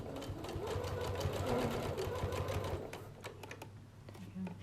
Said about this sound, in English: I've got my zipper foot on and I'm now going to stitch down here